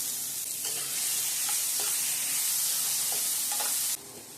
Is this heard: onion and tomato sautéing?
yes